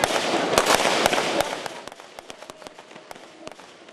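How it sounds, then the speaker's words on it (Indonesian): Police fire shots into the air during a riot-control drill that simulates a protest, with a dense crackling volley at first followed by scattered sharp single reports that thin out and fade. "Polisi melepaskan tembakan ke udara untuk membubarkan para pengunjuk rasa yang berbuat onar"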